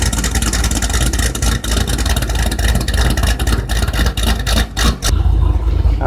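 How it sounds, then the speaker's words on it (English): A Roush Mustang engine revs hard and loud nearby, rising and falling in repeated bursts with brief dips between pulls, then settling to a rumbling idle. "There's the motor. This is what this baby sounds like."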